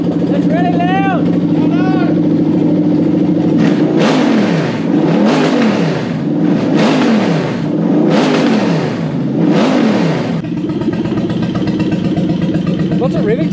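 Toyota car engine, US domestic market model with a stock throttle setup, revving repeatedly in a series of rising and falling bursts near the microphone, with steady idle before and after and people talking over it.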